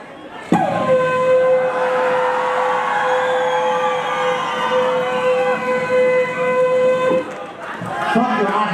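A train horn blows one long, loud, steady tone for about seven seconds, with crowd noise around it before and after.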